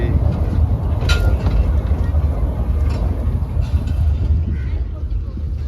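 A children's ride train rumbles along at a steady, loud level, with people talking faintly in the background.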